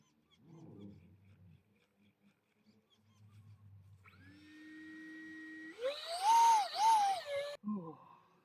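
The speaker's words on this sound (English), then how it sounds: "Just plug the battery in, chuck it into the great blue loop yonder, and give it some full throttle." Small electric motor of a homemade insulation-foam RC airplane spins up to full throttle, a steady rising whine that builds louder and strains near the end, with faint talk beforehand.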